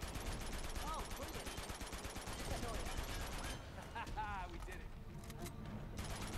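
Rapid MP40 submachine gun fire in Uncharted 2, dense continuous bursts through the first half, then a brief lull before the shooting resumes, with a voice talking over the game sound.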